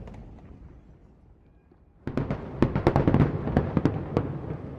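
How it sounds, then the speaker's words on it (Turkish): A quiet stretch gives way to a rapid, crackling barrage of fireworks bursts, loud sharp pops and bangs following one another in quick succession. "Fişeğin alt kısmındaki fitil bir kıvılcım yardımıyla ateşleniyor ve buradaki barut patlayıp fişek havaya fırlıyor"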